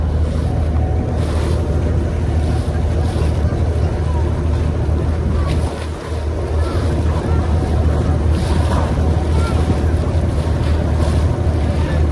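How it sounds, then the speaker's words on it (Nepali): A boat cruising on the sea off Dubai, with a steady loud rumble of engine and wind buffeting the microphone over washing waves, continuous throughout with a brief dip midway. "यो पनि बोटिङ चाहिँ हामीले इन्जोय गरिरहेको छौँ है।"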